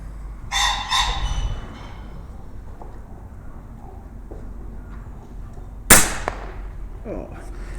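A 25-year-old Air Arms S410 air rifle firing NSA 12.5g slugs outdoors, one sharp close crack followed by a distant metallic knock, with brief talk near the start.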